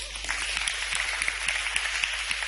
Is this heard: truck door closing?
no